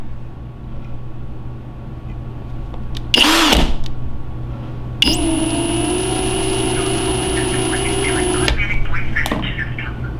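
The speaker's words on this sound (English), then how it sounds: "we're on day 2 of trying to drill a hole in the broken screw in my slide" A power drill bores into a broken screw stuck in a Smith & Wesson M&P pistol slide, a loud close whine running steadily for several seconds after a short burst, with workshop noise around it.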